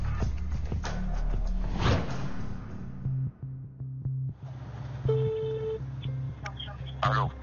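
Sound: telephone call being dialed

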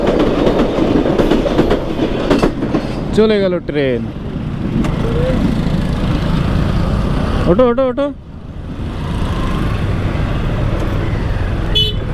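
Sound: train passing at a railway crossing

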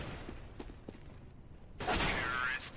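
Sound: two HE grenades exploding in CS:GO video game

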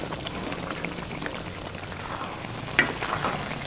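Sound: butter and tomatoes frying while being stirred in a pan

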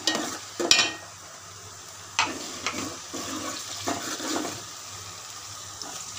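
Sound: frying ginger and garlic

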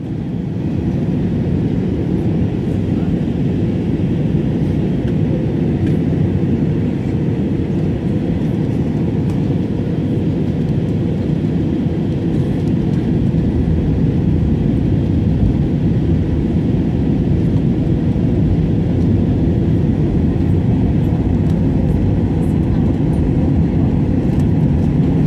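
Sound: airplane approaching landing at Ribeirão Preto

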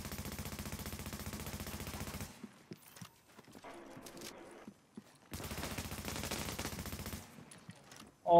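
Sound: gunfire in the video game The Division

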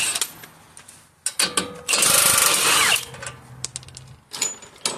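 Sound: 22 mm socket removing a nut on a Chevy Silverado rack and pinion

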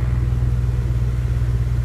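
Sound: Acura Integra K20 engine idling

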